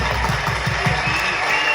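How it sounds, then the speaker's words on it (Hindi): Applause from an audience at a stage show as a guest is called up, a broad steady wash of clapping over a rhythmic thumping music beat for under two seconds. "इनके लिए जोरदार तालियां"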